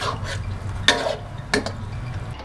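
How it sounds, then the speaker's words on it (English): Beef and tofu stirred in a pan, with two sharp metallic scrapes of a utensil against the cookware over a soft background hum, close and fairly loud. "just stir it up"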